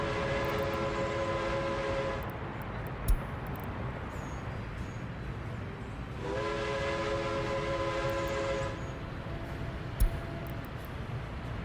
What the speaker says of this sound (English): one of these construction trains